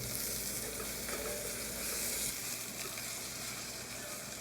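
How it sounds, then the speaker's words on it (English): A pot roast searing in a hot pan gives a loud, continuous sizzle and spattering hiss close by, with faint scraping as it sits against the metal and no talking. "you're not cooking it, you're just searing it, trying to sear it on each side."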